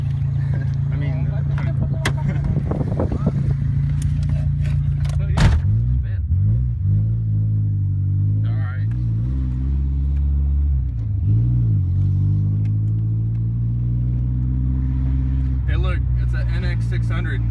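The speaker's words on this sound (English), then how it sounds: "We're gonna go for a test drive in the new 240." A Nissan 240SX with an SR20 engine on a test drive, its engine droning steadily with rising and falling revs and gear changes, heard from inside the car with someone talking over it.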